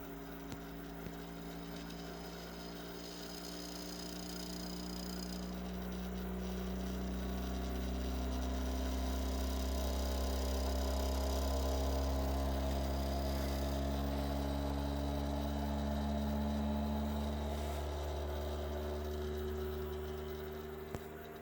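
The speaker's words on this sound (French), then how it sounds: "vous allez entendre le bruit, c'est tout à fait normal, c'est à cause des accélérations" 3D printer running an ADXL345 accelerometer resonance test, giving a steady low hum with tones that slowly sweep and shift in pitch, growing slightly louder in the middle, continuous and alone without talking.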